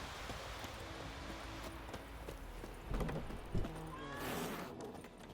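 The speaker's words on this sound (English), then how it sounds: "Whoa there, Roach" Hooves of the horse Roach in The Witcher 3 game, a steady clip-clop of a ridden horse moving over ground, mid-loud under ambient outdoor game sound, with a brief whinny-like swell near the end.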